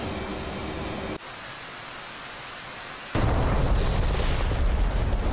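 An AGM-65F Maverick missile is fired from an F/A-18C Hornet in the DCS World flight game: a steady cockpit rush, a brief dip, then a loud, broad roaring whoosh as the launch hits and carries on.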